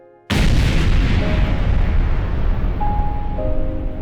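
A massive blast as five locomotives and 81 ammunition-packed boxcars are destroyed in Civil War Atlanta, a sudden loud boom that swells into a long, sustained roaring rumble, with faint tonal whistles over the rolling thunder.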